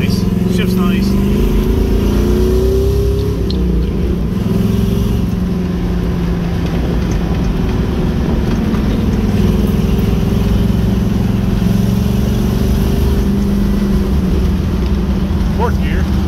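A 1979 Jeep CJ7 engine running steadily while driving and shifting gears, a loud continuous low rumble with wind buffeting and a voice talking over it.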